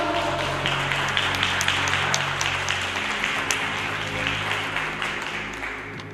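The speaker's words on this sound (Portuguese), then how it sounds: "Aplauda o nome do Senhor." A church congregation claps steadily during a Pentecostal service, a dense, sustained wash of many hands with a low organ-like drone underneath. Faint voices are mixed in.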